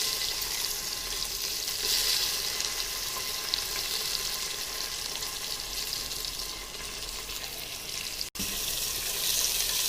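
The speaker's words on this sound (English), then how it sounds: "I'm adding the shallots to the hot oil." Crushed shallots frying in hot oil give a steady, dense hiss and sizzle that runs unbroken and fairly loud, with one brief dip, and no one speaks.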